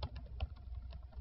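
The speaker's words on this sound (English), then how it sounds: "we can type in" Typing on a computer keyboard: quick, light key clicks in an irregular rhythm, close and fairly quiet, with no talking.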